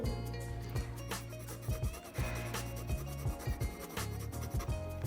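Faber-Castell colored pencils, starting with a light yellow, scratch and rub across paper in quick, rhythmic strokes, close and fairly quiet, with brief pauses between bursts.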